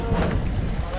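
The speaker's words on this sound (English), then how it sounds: "This is our first free ride with the boat." Aboard a Western Ferries boat crossing in windy, stormy Scottish weather, a steady low rumble mixes with gusting wind buffeting the microphone, brief and fairly loud.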